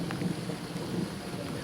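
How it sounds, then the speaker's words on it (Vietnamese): Steady rain falls outdoors beside a house and open fields, a constant dense hiss with occasional low rumbles, heard alone with no voices. "và ngoài trời thì đang mưa."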